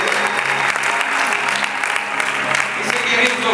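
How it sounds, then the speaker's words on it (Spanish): A church congregation claps together in a loud, continuous burst of applause that carries on at a steady level throughout. "Nos aplaudan al Señor."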